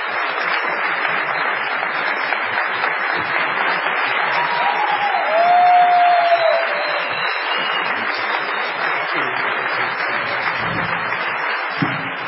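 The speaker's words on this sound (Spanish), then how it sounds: "Un aplauso para el señor." Audience applause at a radio-style broadcast from San Juan, a continuous even wash of clapping sustained for around twelve seconds at moderate level, with a brief tonal sound midway and a few thumps near the end.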